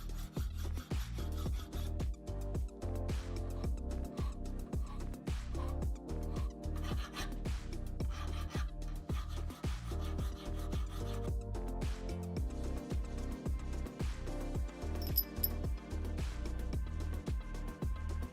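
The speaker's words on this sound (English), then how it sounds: "I used some hand files on the outside of the nuts and bolt head" A hand file scrapes across 3D-printed plastic nuts and a bolt head in steady, rhythmic rasping strokes, close and fairly quiet, repeating evenly throughout.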